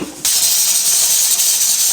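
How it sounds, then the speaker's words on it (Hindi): A pressure cooker cooking black chickpeas suddenly bursts into a loud, sharp hiss of escaping steam that stays steady and close to the end. "अच्छा जी, कुकर देखें, ये मुझे ना चलाना आ गया।"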